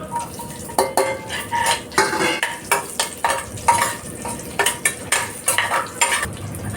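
Crushed garlic added to a hot pan and stirred with a metal spoon while cooking a coconut and chana dal curry, giving repeated close scraping clinks against the pan over a soft sizzle, with no talking.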